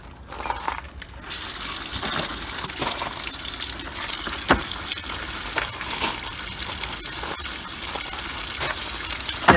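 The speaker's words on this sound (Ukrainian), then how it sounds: "Закладаю і заливаю водою." Water gushing steadily into a basin holding silver carp, a continuous splashing pour with occasional knocks and clatters, close by.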